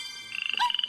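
A frog croaks in a quick run of pulsing calls that grow steadily louder, with no other sounds behind it.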